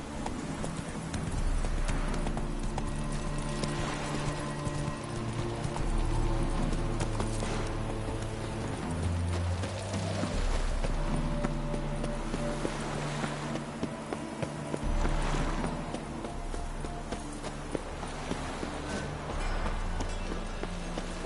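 A horse galloping in The Witcher 3 video game, rapid rhythmic hoofbeats under a music score, steady and fairly close throughout.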